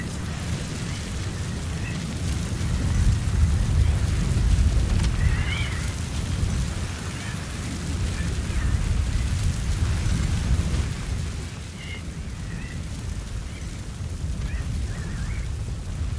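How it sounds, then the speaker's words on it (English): Heavy rain pours in a steady, dense roar during a thunderstorm in Metal Gear Solid V: The Phantom Pain, with low rumbling swells of thunder rising and easing throughout and no voices. "Here comes the storm."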